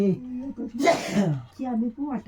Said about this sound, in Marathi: शिंका आणि सर्दी जास्त झाली